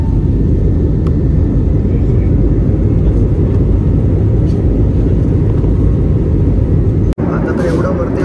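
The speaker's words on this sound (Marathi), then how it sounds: "आमचा प्लेन फ्लाय होईल" An airplane takes off on a first flight, heard from inside the cabin as a loud, continuous roar and rumble of engines that holds steady throughout, with a short sharp break near the end.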